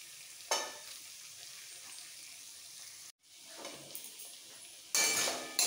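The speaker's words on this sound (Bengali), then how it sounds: "মশলাটা কষাতে কষাতে দিয়ে দেবো লঙ্কা, কাঁচা লঙ্কা 5টা বেটে নিয়েছি, সবটা দিয়ে দিলাম।" Spice paste with five ground green chillies sizzling and being stirred in a pan for a vegetarian okra and potato curry, a steady fry hiss broken by scraping stirs and a louder burst of sizzle as more paste goes in.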